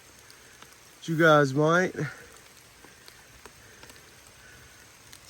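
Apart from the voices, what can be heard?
rain falling while fishing at a creek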